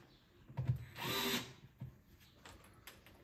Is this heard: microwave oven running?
no